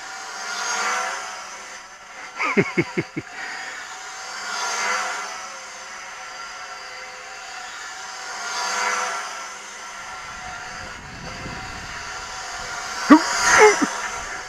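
Motors on a drone converted into a model Lancaster bomber drone at full throttle in flight, a steady buzzing hum that swells and fades as it passes, with a few brief sharp knocks and handling noises nearby.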